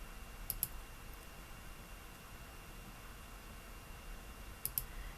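Two quick pairs of faint computer mouse clicks, one near the start and one near the end, stand out against a steady low hiss.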